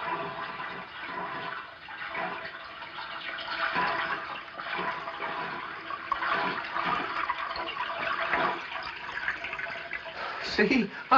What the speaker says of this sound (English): Sounds like water running.